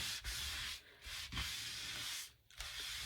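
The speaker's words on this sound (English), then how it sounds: "Wipe off some of the excess." Cloth or paper wiping excess medium off a craft tag decorated with alpha stickers: soft, steady rubbing strokes with brief gaps, close and fairly quiet, with no voices.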